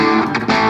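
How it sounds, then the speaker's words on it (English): An electric guitar with a humbucker pickup plays through an Avery JABO-45 tube amp with slight breakup, sounding a sustained chord that is struck again midway, loud and close. "so the amp is breaking up just a hair"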